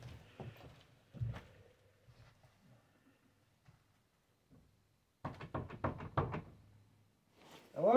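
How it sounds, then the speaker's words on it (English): Knocking on the front door of the historic Pierre Menard home in Southern Illinois, a few soft early knocks, then a loud rapid series of about eight raps after a quiet stretch, with faint movement around it. "I'm gonna knock on the front door."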